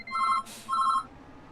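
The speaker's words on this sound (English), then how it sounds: "and there goes the phone," A telephone rings nearby on a farm, giving two short bursts of electronic trilling separated by a brief noisy gap, clear and fairly loud with no voices over it.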